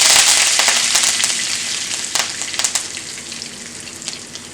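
Curry leaves and fennel seeds hit hot oil and sizzle loudly at first, a dense crackling fry that eases slightly, with a few sharper pops and spatters toward the end, close by and without voices.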